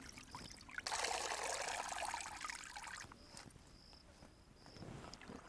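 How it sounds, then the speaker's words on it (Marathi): Chopped vegetables being rinsed in water, with a burst of pouring and splashing for a couple of seconds, then softer trickles and light rustling, close and fairly quiet. "आपण डबल पाण्याने धुवून घेऊ एकदा"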